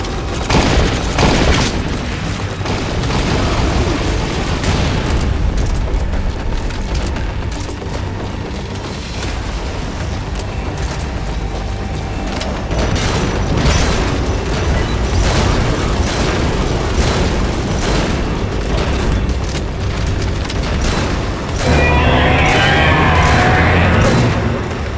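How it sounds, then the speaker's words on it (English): Ground spikes explode in the Metal Gear Solid video game, a rapid barrage of loud booms and bursts mixed with gunfire-like pops, ending in a heavier blast near the end, with no speech over it. "you can cause ground spikes to explode quicker, simply by shooting them"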